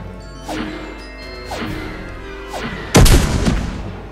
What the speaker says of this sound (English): Now they are obviously going to bomb that structure to pieces.